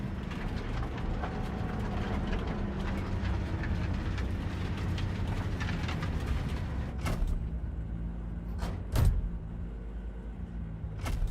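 In Cyberpunk 2077, a train arrives with a steady, broad mechanical rumble, then a few sharp, brief clanks near the end, with no talk.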